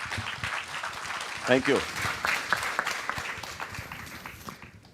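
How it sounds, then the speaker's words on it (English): Applause for a conference panel on the blue economy in Klaipėda fills the room, a steady broadband crowd clapping under a brief spoken thanks. "And now we probably owe some applause to the panel"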